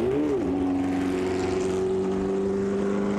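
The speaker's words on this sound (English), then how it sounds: "Yes, 12 cylinder Matra is just amazing." A 12-cylinder Matra 3-litre 1970s sports racing car engine at speed, heard as a loud, steady, high-pitched harmonic drone that dips briefly in pitch at the start and then holds an even tone throughout.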